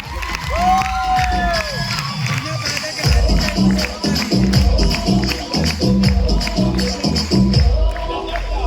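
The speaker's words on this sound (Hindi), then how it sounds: "जोरदार ताली" A large audience at a motivational speech event in Chhattisgarh gives loud applause mixed with cheering, whoops and shouting voices, a dense crowd roar that swells and stays strong, with a voice speaking over it.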